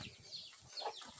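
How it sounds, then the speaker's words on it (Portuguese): Young hens on a small farm give soft, short clucks in a brief burst at close range, with faint rustling between the calls. "Olha que gracinha, as franguinhas já estão ficando bem bonitinho."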